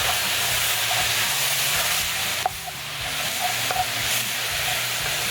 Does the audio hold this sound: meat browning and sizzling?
yes